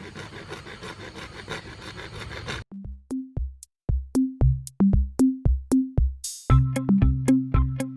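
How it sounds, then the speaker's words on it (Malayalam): A hacksaw blade cuts short marked pieces of PVC pipe, giving a run of rhythmic back-and-forth strokes, close and fairly loud, after a few seconds of steady rasping at the start. "ഇനി ഓരോന്നായിട്ട് നമുക്ക് ആക്സോ ബ്ലേഡ് ഉപയോഗിച്ച് മുറിക്കാം"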